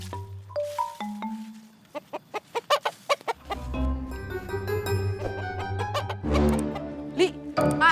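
Chickens cluck and squawk in a rural yard, a busy run of sharp calls building into a louder flurry over a steady background hum.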